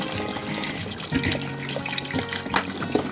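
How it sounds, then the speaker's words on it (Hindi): Water splashes and gurgles steadily into a cooking pot of mutton trotters, close by, with a few louder sloshes and clinks toward the end. "यहाँ पे मैं पानी ऐड कर रहा हूँ।"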